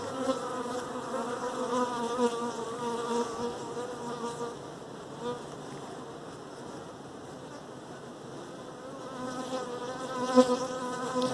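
Dense, steady buzzing of many honeybees around an opened hive with brood frames, a soft continuous hum close by with no voices.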